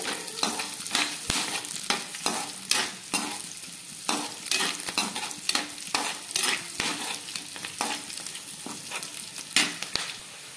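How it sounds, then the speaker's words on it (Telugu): Spring onions and carrot fry in hot oil in a wok, a close, loud sizzle broken by repeated clacks and scrapes of a spatula stirring at an irregular rhythm, with no talking. "ఇప్పుడు ఇందులో ఉల్లికాడలు, క్యారెట్ అయితే వేసుకోవాలి. వేసుకొని బాగా ఫ్రై చేసుకోవాలి."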